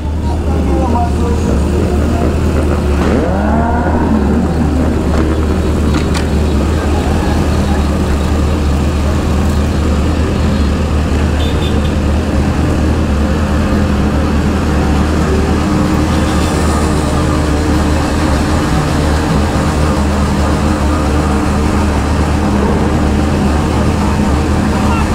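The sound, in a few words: BMW S1000RR motorcycle riding at speed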